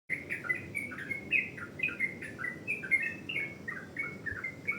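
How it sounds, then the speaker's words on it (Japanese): Small birds chirping and trilling outside a room in Bali in the morning, quick repeated tweets and short song phrases layered together at moderate distance over soft background ambience. "朝起きたらさ、チチチチチってさ鳥さんの声が聞こえてさ"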